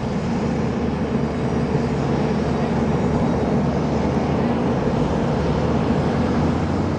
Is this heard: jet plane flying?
yes